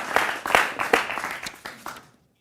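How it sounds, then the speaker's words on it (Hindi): Studio audience at a televised political debate show gives a short burst of applause, a few distinct loud claps clustered together before stopping abruptly after about two seconds. "जोरदार तालियां उनके लिए।"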